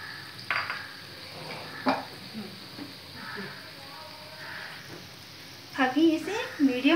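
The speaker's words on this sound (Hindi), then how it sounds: "अभी इसे मीडियम फ्लेम पे लाइट ब्राउन होने तक तल लेना है इस बड़े को" Dahi vada lentil fritters frying in oil over a medium flame, a soft steady sizzle with occasional clinks and stirring sounds, while someone talks over it.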